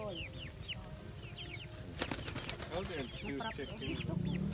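Birds being fed at the Sanctuary of Our Lady of Lourdes: a busy outdoor mix of chirps, whistles and fowl clucking, with a brief burst of fluttering wings midway, all fairly faint.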